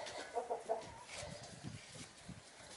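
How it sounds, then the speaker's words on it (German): Hungry chickens clucking softly while grain is scattered for them, faint, scattered clucks and rustling in a quiet farmyard, with no talking. "Die Hühner sind hungrig."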